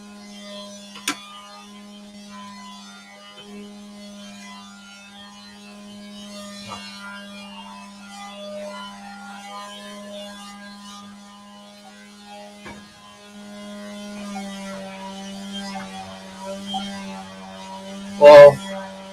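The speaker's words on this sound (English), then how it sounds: "That's actually a palm sander, believe it or not. Noisy little bugger." A small palm sander with a rear dust compartment runs steadily, giving a continuous close droning hum with faint knocks and one loud bump near the end.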